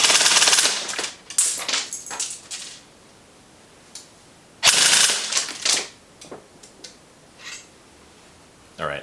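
Airsoft gun with an SHS long type torque motor firing full-auto bursts: several loud, rapid rattling volleys separated by pauses, with short clicks between them.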